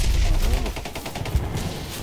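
Crackling bursts of distant gunfire and rumbling blasts roll over a noisy background, irregular and fairly faint.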